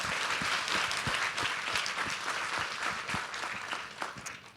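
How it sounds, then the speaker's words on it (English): Audience applause for speakers at a patient advocacy conference session, steady dense clapping from many people at moderate level, gradually thinning toward the end with a last few separate claps. "I'd like to ask everyone to give a big round of applause to all of our speakers for their talk."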